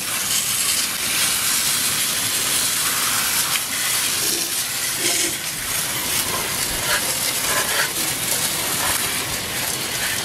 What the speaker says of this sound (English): Now I've got a hose, I've got it set to jet.